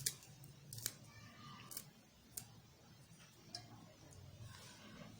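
Coriander and mint being finely chopped, with sharp intermittent cutting clicks up close over a quiet background.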